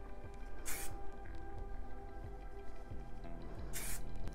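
Got2b Glued Blasting Freeze hairspray sprays from an aerosol can in two short, loud hissing bursts a few seconds apart, close up, with faint handling noises between them.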